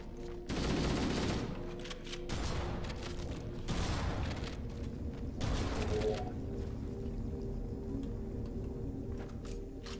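Gunfire in Halo: The Master Chief Collection, heard as steady, fairly quiet bursts of rapid automatic fire that fade into a mechanical clattering hum toward the end.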